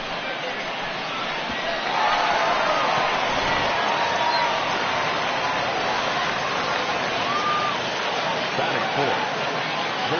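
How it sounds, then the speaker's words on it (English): A home crowd cheers in a baseball video game on PS4, a dense, steady roar that swells slightly after the first couple of seconds and then holds at a loud, even level. "No better way to get the home crowd into it right out of the gates."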